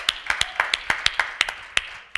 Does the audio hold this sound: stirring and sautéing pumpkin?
no